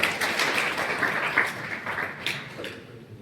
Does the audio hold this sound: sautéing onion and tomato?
no